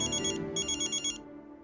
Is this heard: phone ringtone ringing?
yes